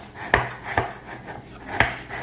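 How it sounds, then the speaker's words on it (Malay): A knife cuts through palm sugar (gula melaka) on a cutting board in a few sharp, close, separate chops with short pauses between them. "Kita hiris ya."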